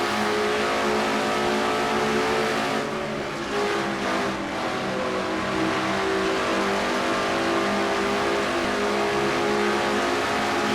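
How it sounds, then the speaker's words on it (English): From inside the number 21 Citgo Ford race car at Dover, the engine roars loud and steady throughout, a continuous high-revving drone with slight dips as the car works through the turns. "As we jump inside the car of Quentin Moore, the number 21 Citgo Ford."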